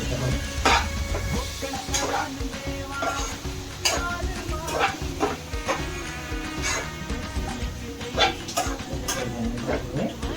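A spoon stirs dried bombil fish bhaji in a pan, Konkan style, making steady close scraping and shuffling strokes with occasional louder knocks against the metal, over a faint sizzle.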